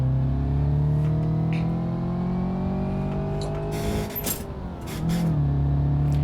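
BMW E34 accelerating toward top speed in BeamNG.drive, a steady loud engine drone with a rising whine, a brief dip in the revs like a gear change, then the drone resuming, with no talking.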